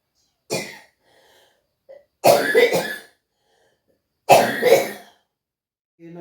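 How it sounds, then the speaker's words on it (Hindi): Three harsh coughs spaced a couple of seconds apart, close and loud against near silence. "इनको खांसी बहुत आया था"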